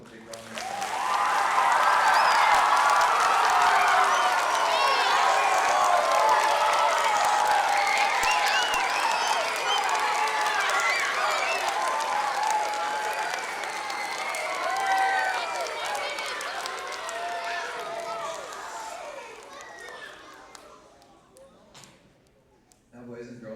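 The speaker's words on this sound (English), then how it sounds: "Can we give Minnesota Wild a big round of applause?" An elementary school audience at a Stanley Cup visit applauds the Minnesota Wild, loud sustained clapping and children's cheering that swells early, holds, then tapers off with talk near the end.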